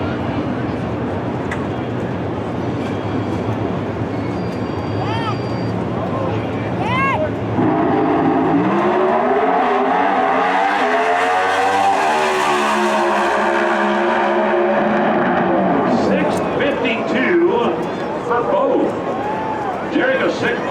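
A pro stock drag racing car at Maple Grove Raceway during NHRA Finals qualifying launches and screams down the track, its loud engine rising in pitch as it accelerates, over a commentator's voice and crowd noise.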